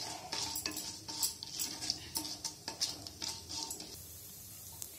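Whole spices tempering in two spoons of oil in a pressure cooker, crisp sizzling with repeated metallic scrapes and clinks of a stirring spoon against the pot, steady and close without talk.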